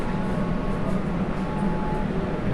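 Steady low rumble of a Kolkata underwater metro train in motion beneath the Ganges, with a constant drone and a faint high whine, no voices.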